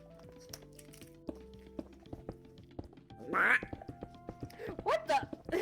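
A cartoonish duck quacks in Minecraft. Short, raspy, Daffy Duck–style squawks come in quick bursts near the end, over soft game music and background chatter.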